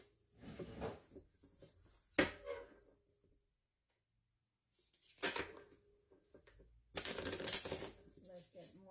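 A deck of oracle cards is shuffled in several short, crisp riffling bursts separated by quiet pauses, heard up close.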